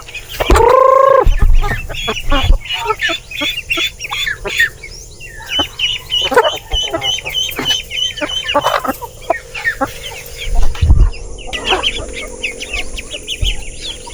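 Hungry farm chickens cluck and chirp close by in a busy, overlapping chatter, with a few louder squawks and rustles throughout.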